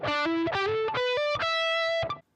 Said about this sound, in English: You're going to do a series of hammer-ons.